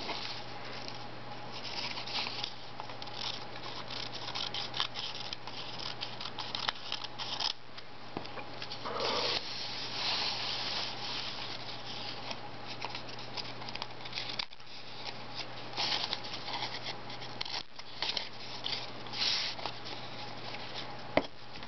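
Scissors snipping paper ephemera to make decorative tape, soft, close, irregular small cuts and rustles over a faint steady background hum, with no talking.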